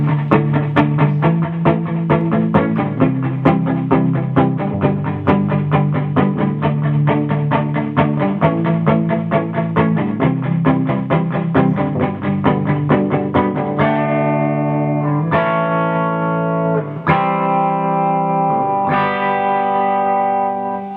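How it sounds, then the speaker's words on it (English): An overdriven electric guitar through a Fender Blues Deluxe Reissue amp plays a sustained, distorted riff with rich harmonics, loud and continuous, followed by several ringing struck chords near the end. "Gives you a little bit of an idea of that overdriven sound."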